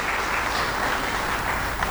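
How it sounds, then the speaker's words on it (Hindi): A crowd at a political rally in Madhya Pradesh claps loudly and continuously, a dense, even wash of applause that holds steady throughout with no speech over it. "इसलिए एक बार जोरदार ताली बजा के नरेंद्र मोदी जी का स्वागत कीजिए, अभिनंदन कीजिए।"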